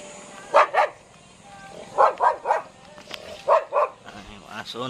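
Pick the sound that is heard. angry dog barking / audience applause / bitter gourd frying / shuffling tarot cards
angry dog barking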